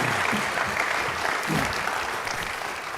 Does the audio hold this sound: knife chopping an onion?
no